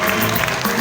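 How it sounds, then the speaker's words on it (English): Dense applause at the Art of Living culture festival as a guest is welcomed, steady and full across the whole short burst with no voices on top. "Round of applause."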